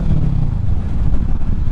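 A 2023 Kawasaki Ninja 650 fitted with a Yoshimura Alpha exhaust rumbles steadily and deeply while being ridden, a loud low drone with no talking.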